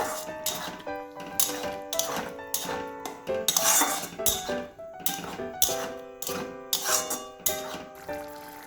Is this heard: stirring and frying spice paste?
yes